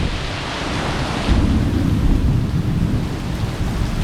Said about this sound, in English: Heavy, heavy downpour.